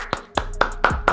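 Hands clap in applause: five sharp, close claps spaced evenly about a quarter second apart, loud and dry, with no talking.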